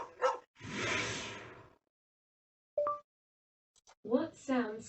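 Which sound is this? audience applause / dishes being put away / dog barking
dog barking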